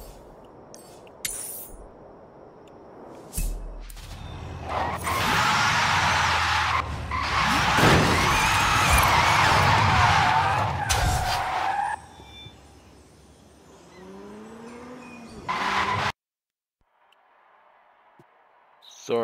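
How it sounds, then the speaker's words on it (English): Tires skid and squeal as a car drifts in the racing game Forza Horizon 5, a loud sustained screech with engine roar that builds over several seconds, then cuts out abruptly into near silence before a brief final burst. "Go for the drift."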